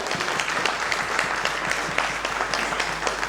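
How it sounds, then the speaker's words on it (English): Audience at an architecture and interiors design debate in Indore giving sustained, even applause, a dense patter of hand claps with no voice over it. "let's have a big round of applause"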